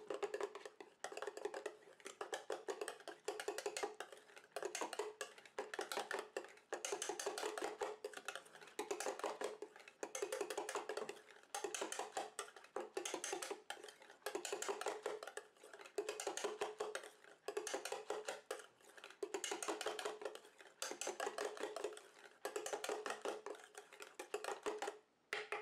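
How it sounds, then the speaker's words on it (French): Homemade foot cream stirred in a container, a continuous fast scraping and tapping rhythm of a utensil against the vessel, close and fairly quiet, with no talk. "Je mélange."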